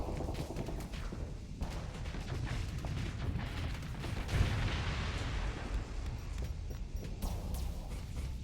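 Voltaic cannon fire in a Starsector space battle, dense crackling volleys and rumbling impacts rolling on continuously, with one heavier burst near the middle, all at a moderate level.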